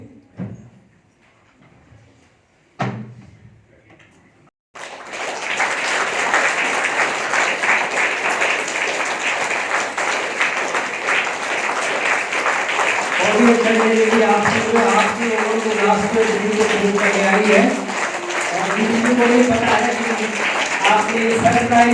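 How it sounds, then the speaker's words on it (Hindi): After a few seconds of near silence with brief knocks, an audience at a golden jubilee celebration in Mandi breaks into loud, sustained applause. Tonal voices or music rise over the clapping in the second half. "आप सभी तालियों से तालियां लगातार बजती रहे"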